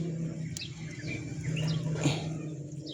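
Faint, scattered bird chirps and short calls over a low background hum, distant and sparse.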